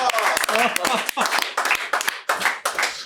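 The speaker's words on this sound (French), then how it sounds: "Et là, applaudis encore, applaudis." Audience clapping at a French dental-industry event, a burst of sharp irregular hand claps close by, broken by short gaps, with voices mixed in.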